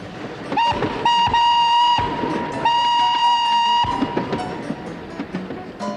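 A steam train passes with a loud, sustained whistle blowing in two long blasts, over rumbling and clattering wheels.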